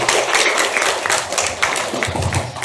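Audience applause welcomes a speaker onto the stage: dense, loud clapping from a crowd, sustained evenly across the whole stretch with no voices over it.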